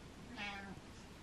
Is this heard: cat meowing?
yes